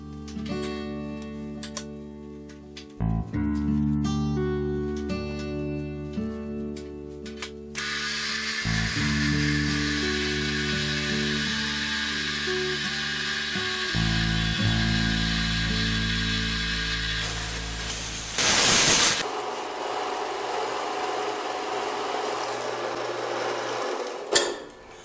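A grinder cuts through a metal tube during a tractor-mounted engine hoist build: a long, steady abrasive roar and hiss at the center, with lower mechanical hum and clinks before and after.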